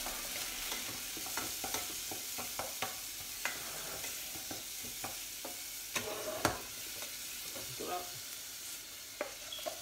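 Onions and garlic fry and sizzle softly in a pan while a spoon stirs them, giving scattered scraping clicks and taps over a quiet, continuous crackle.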